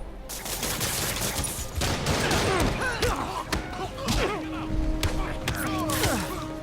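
Gunfire in Marvel's Spider-Man Remastered, with rapid bursts of shots and thuds mixed with combat impacts and shouting voices, loud and busy throughout.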